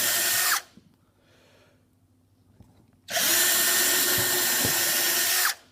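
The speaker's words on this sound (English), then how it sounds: "I'm going to drill a pilot hole, 6 in fact, into the pine carcass and into the plywood top" Power drill boring pilot holes into a pine carcass and plywood top: two loud close bursts of high whirring, separated by a quiet pause with faint handling clicks.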